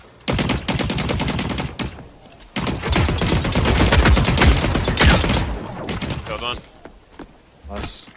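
Rapid gunfire bursts from The Cycle Frontier, an early-wipe PvP shooter game, rattle loudly in sustained volleys for several seconds, pause briefly, then resume, with players talking over the shooting.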